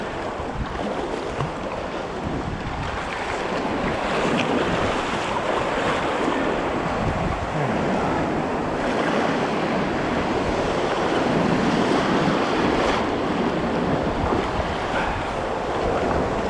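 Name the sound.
ocean waves cresting around a kayak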